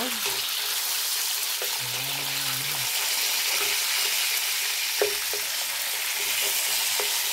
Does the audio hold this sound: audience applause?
no